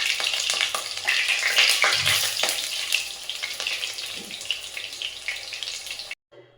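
Onion fritters (piyaju) sizzle steadily in hot oil, a dense close crackle with occasional stirring clinks, running alone until it cuts off just before the end.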